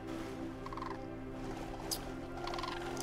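Birds in the video game AER call with a gobbling, warbling sound over a steady droning game ambience, moderately loud and without talk.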